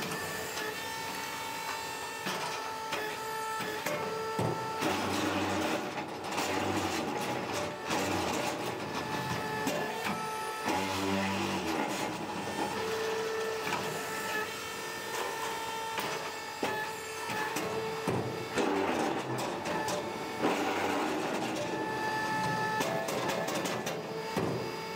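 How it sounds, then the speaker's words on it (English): A QMC12-15 mobile egg-laying concrete hollow block machine runs loud and steady, its vibration table droning and rattling for the whole stretch with mechanical clanks as blocks are shaken into shape and demolded. "QMC12-15 is simple: feeding material, vibrating for taking shape, demolding, and moving forward."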